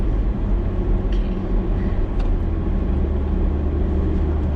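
A 2019 Porsche Macan on a drive to Genting produces a steady, low engine and road drone from inside the cabin, loud and continuous, with a couple of faint clicks and no talk.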